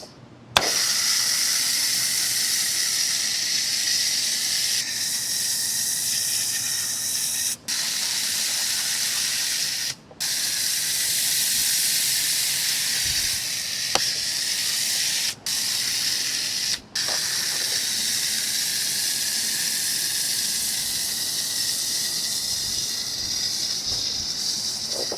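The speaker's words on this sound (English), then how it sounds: "Let's go ahead and foam it." Foam cannon spraying a thick coat of foam over a ceramic-coated car, a steady loud hiss broken by a few brief pauses as the trigger is released.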